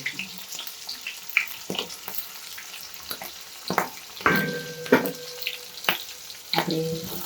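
Chopped medium onions go into a pan of chilli and garlic frying in oil, making a quiet, steady crackle up close, broken by a string of louder clatters and scrapes of stirring and handling.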